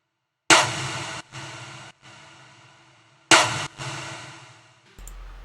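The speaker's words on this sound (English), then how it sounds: "Layered with another snare here." A second layered snare drum sample in an electronic production sounds as two loud, crisp hits a few seconds apart, each with a short ringing tail, alone without voices.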